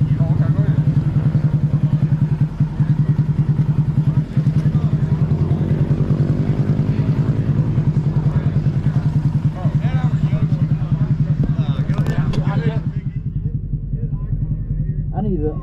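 A small-bore motorcycle exhaust idling loud and close at a Barber event, a rapid throbbing putter with occasional revs, while a voice talks briefly over it.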